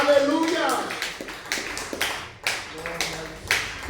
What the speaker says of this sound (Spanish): Aplauda fuerte el nombre de Jesús.